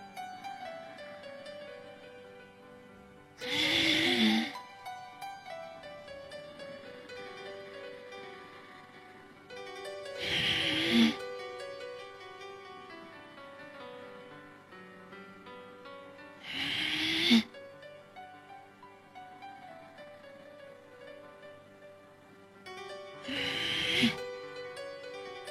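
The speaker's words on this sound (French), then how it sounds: "Kapalbhati, vous allez avoir une inspiration passive et une expiration active." Kapalbhati yoga breathing with passive inhalations and forceful active exhalations, four loud breathy bursts spaced about six seconds apart, close to the microphone over a soft continuous tonal background.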